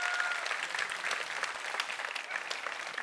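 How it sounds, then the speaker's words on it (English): Sustained audience applause, a dense wash of clapping from a crowd at steady volume throughout. "Let's have a round of applause for Simon."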